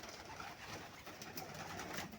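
Pigeons coo softly inside a loft of nesting boxes in an Arab-style pigeon-keeping setup, low throaty murmurs blending into a faint continuous background with no voices.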